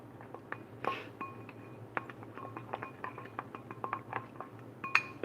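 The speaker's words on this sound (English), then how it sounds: "I'm going to stir up our sauce" A spoon stirs peanut sauce for Asian spring rolls in a bowl, giving a run of light, irregular clinks and taps against the dish, close and fairly quiet, with no talking.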